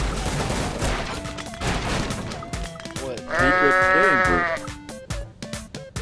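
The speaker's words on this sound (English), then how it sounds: "Is that a goat?" A goat bleats in a wavering, nasal cry midway through, amid busy Goat Simulator game sounds with scattered sharp bangs and clatter.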